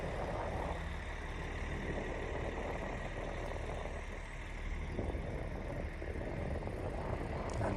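Diesel buses in high season at Medjugorje, including Italian coaches, rumble steadily at idle with a low broadband engine drone throughout, the pitch shifting slightly as one pulls away; no speech.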